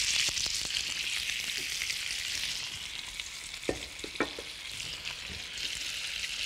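A drop of oil sizzles steadily in a frying pan, a continuous close hiss with a few faint clinks and knocks of utensils partway through.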